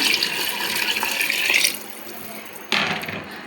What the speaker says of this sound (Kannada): ಇವಾಗ ನೀರು ಹಾಕೋತೀನಿ.